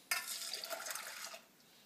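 Masala chai poured back and forth between two pots, a splashing liquid pour that starts abruptly and runs for over a second, loud and close, then trails off into quiet.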